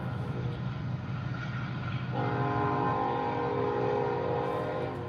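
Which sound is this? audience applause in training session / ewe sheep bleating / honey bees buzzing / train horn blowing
train horn blowing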